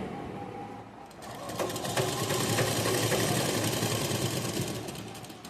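A sewing machine runs steadily for several seconds, stitching elastic into the waistband of palazzo pants, close and fairly loud with a rapid mechanical chatter after a brief pause, with no voices.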